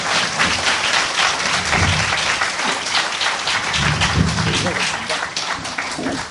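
An audience at a public broadcast event in Busan applauds with steady, fairly loud clapping throughout, while a host's voice carries faintly underneath.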